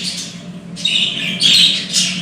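Several budgerigars, four males and eleven females, squawk and chatter in harsh, shrill bursts, close and fairly loud, with a low hum underneath.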